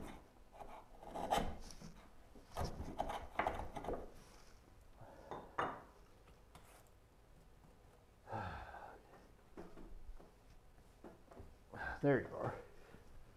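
Final rasp or file strokes scrape across wood during a Moxon vise build, a few close, rough swipes in short separate bursts, with breathing and faint handling noise between.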